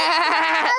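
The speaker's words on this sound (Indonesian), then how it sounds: "Ada kambing." A goat gives a single short, nasal bleat, fairly close and clear, lasting under a second.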